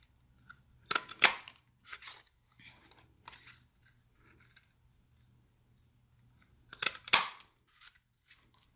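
Paper punch cutting holly leaf shapes from cardstock for a Season's Greetings card: two sharp, close clicks a few seconds apart, each followed by light paper rustles and handling noise.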